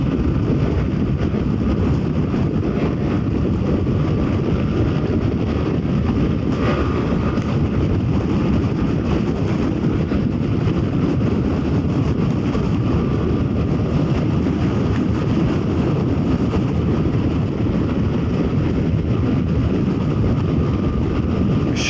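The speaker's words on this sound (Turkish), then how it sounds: "Oo, güzel esiyor rüzgar." Strong wind on a bridge roars and buffets a microphone continuously, a loud dense rumble with no breaks and no voices.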